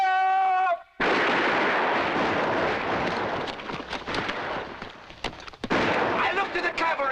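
Cannon and musket volleys boom in a vintage Disney period film, a sustained roar of gunfire with sharp cracks and blasts, loud and close, following a brief musical tone at the start.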